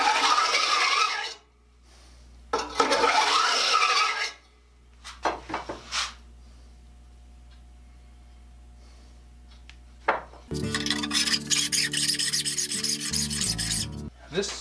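A hand file shapes the teeth of a worn handsaw in short, loud rasping strokes, a few separate passes broken by quiet gaps, then a longer buzzing, scraping run near the end.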